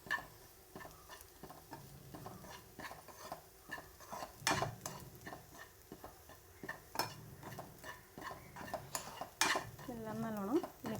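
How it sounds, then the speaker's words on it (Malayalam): A spiced mixture with coriander powder is stirred in a pan, a faint sizzle under repeated spoon scrapes and metallic taps against the pan, quiet and close. "എല്ലാം നല്ലോണം മിക്സ് ചെയ്ത് കൊടുക്കുക."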